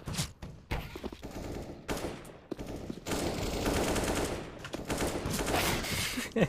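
Rapid automatic rifle fire from an M4 in a Counter-Strike style shooter, sustained bursts rattling loudly and close, with short pauses between volleys and a brief voice at one point.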